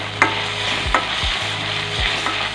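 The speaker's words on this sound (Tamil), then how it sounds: "தக்காளி வெங்காயம் நல்லா வதங்கி வரட்டும்." Chopped onions and tomatoes sizzle in oil in a pan as kuzhambu is cooked, a continuous close frying hiss with a few sharp scrapes of a stirring spoon.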